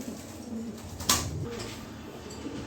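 A pair of pigeons cooing nearby, low soft coos with one sharp brief noise partway through, against a quiet background.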